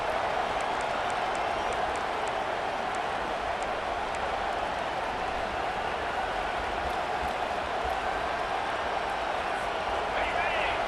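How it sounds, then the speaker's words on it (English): A packed stadium crowd roars at a football game as fans rally behind the defense on third down, a loud, steady wall of noise that holds for the whole stretch. "Decibels rising as the crowd gets behind this defense on third down."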